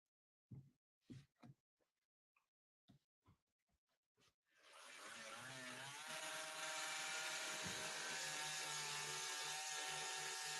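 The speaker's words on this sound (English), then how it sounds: "he's going to take his saw and simply just at an angle go right through the entire bolt itself" A power saw starts after several separate knocks and clanks, then cuts steadily and loudly through the bolt heads of a door, grinding on without pause to the end.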